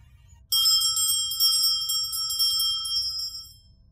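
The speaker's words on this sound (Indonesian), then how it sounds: "ku dengar lagi suara gemerincing lonceng" A small bell jingles with bright, sustained metallic tinkling that starts abruptly and rings continuously for about three seconds before fading.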